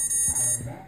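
Electronic speed controller on a ZMR250 quadcopter build emits calibration beeps during throttle setup: steady high-pitched tones with brief breaks, close and fairly loud, no talking.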